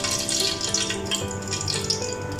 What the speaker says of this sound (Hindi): अब हम इसमें डाल देते हैं ये ऑयल।